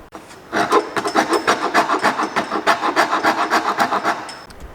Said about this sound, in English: I just need to sand the edge here, sand the burning mark from the saw